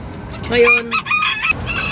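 A bantam hen clucks close by in a short burst of a few throaty, rising notes amid faint background rustle.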